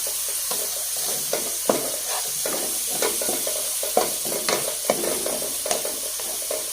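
Chopped onions sizzle and fry steadily in hot oil in a pan for an egg gravy, with a constant loud hiss broken by rhythmic scraping stirs about every half second, close up, with no voices.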